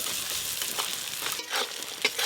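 Crabs crackle and sizzle loudly in hot oil, the hiss pulsing with stirring and a few sharper pops near the end.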